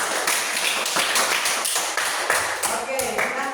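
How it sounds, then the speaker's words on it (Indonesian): A classroom of students applauds groups 1, 2 and 3 with bursts of hand clapping, fairly close and lively, under and between a teacher's voice. "Kalau begitu kasih tepuk tangan untuk kelompok 1,"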